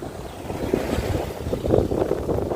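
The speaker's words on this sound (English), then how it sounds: "So quite a windy weather today." Steady outdoor wind buffeting the microphone on a sunny afternoon in the old town of Khemmarat, Ubon Ratchathani, Thailand, a continuous low rumble with gusts swelling and fading, no voices.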